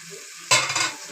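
Food hits a hot pan and is stir-fried, a sudden loud burst of sizzling that flares up halfway through and then settles, with stirring close by and no talking.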